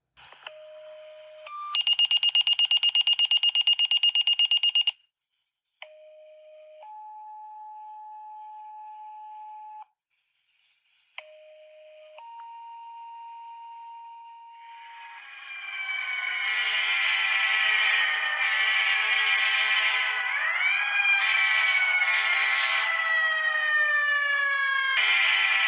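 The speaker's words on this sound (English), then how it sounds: "The emergency tones and sirens you are about to hear are not real." Simulated emergency dispatch tones ring out first, a loud high tone followed by a series of steady alert beeps, then rising and falling wailing sirens swell in and hold loud and layered to the end, with no voices.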